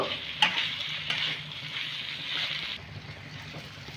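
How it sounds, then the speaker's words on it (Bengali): Fried potato and pointed gourd being tossed with masala in a pan, a steady soft sizzle under scraping stirs with a couple of sharper spatula knocks, close and alone. "এবার আমি ভেজে রাখা আলু আর পটলটাকে মশলার সাথে ভালো করে মিশিয়ে নেব"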